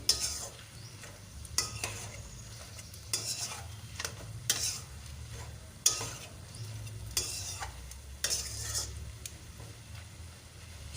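Amadi fish bati chorchori with potato, eggplant and Malabar spinach seeds stirred in a pan, a spoon scraping in repeated bursts over a steady low simmer, close and moderately loud, with no talk.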